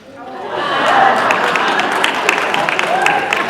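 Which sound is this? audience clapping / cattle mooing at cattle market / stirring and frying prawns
audience clapping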